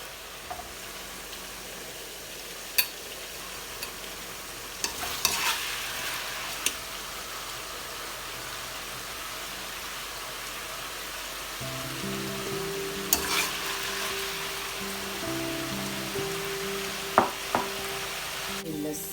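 Garlic, green chilli, carom seed and salt paste frying in oil in a pan for a baghar, with a steady soft sizzle, occasional sharp clinks of stirring, and a louder bubbling sputter in the second half.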